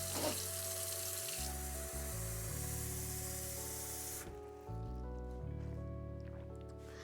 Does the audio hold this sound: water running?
yes